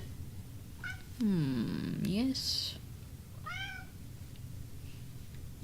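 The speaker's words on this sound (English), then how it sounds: "Yes, you are a good squeaky kitty." A cat meows several times in a high, squeaky voice, with a long drawn-out meow followed by shorter ones, close to the microphone over a steady background hum, and a person briefly speaks.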